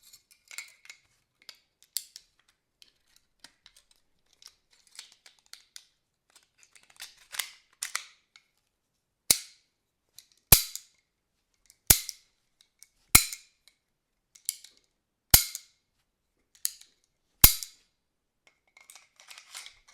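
Repeated sharp cracks of a Bajkal CO2 Makarov air pistol firing steel BBs, about half a dozen crisp close shots spaced a second or two apart, amid faint clicks and handling noise, with no voices.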